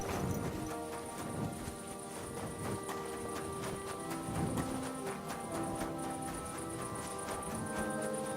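Hooves clip-clop at a steady walking pace in Kingdom Come: Deliverance II, close and moderately loud, with a jingling, musical backdrop.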